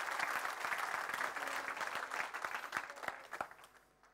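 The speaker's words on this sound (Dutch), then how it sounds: "applaus voor Liesbeth van der Meer" Audience applause fills a seminar hall at a football school event on the amateur club of the future, a steady patter of many hands clapping that thins into scattered claps at the end, fairly faint and distant.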